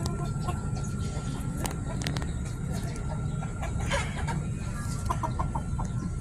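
A seven-month-old Shamo rooster clucking outdoors in short intermittent calls over steady background noise, with voices talking nearby.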